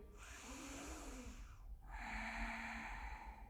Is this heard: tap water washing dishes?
no